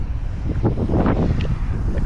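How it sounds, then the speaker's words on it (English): Strong wind gusts buffet the microphone beside a pond during a bass fishing outing, a dense, continuous low roar that swells and eases, with a muffled voice briefly mixed in. "On a very windy day."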